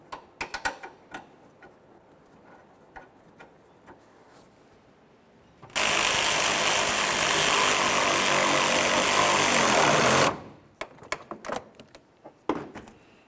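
A power tool drives the corner mounting bolts of a 2005-2010 Chevrolet Cobalt front bumper cover inside the fender well, a steady whirring run of about four seconds between scattered clicks and handling noises.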